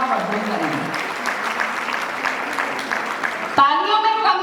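A hall audience applauds steadily throughout at a ceremony, a dense wash of clapping that swells louder near the end, with voices mixed in under the clapping.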